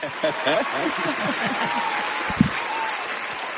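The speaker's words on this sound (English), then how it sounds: "We need an applause for that." Applause from a studio or event audience, a short burst of clapping with some chuckling, heard under someone talking over it.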